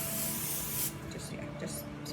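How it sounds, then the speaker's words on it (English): A can of olive oil non-stick cooking spray hisses in a steady close burst that cuts off just under a second in, followed by softer rustling and faint handling noise. "And it's an olive oil spray because it's a neutral flavor."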